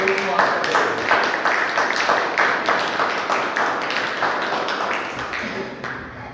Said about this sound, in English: On a big round of applause